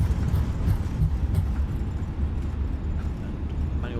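Airliner engines roaring in reverse thrust after touchdown in the MSFS 2020 flight simulator: a steady, dense low rumble that holds throughout with no voices.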